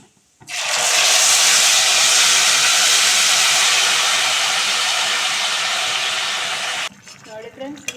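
Boiled bitter gourd for gojju hits a little hot oil and sizzles: a loud, steady hiss that bursts in suddenly, holds for about six seconds, then cuts off, with no one talking.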